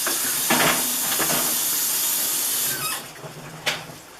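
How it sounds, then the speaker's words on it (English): Boiled spaghetti is strained in a kitchen, a steady steamy hiss with brief splashing bursts of water pouring through, tapering off near the end. "You're going to go ahead and strain your spaghetti."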